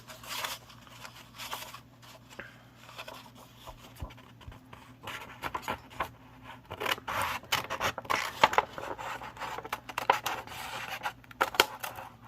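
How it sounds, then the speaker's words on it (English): Scissors snipping through paper for a junk journal in irregular bursts, with crisp cuts growing busier toward the end, close and moderately loud. "I can use my scissors on this one."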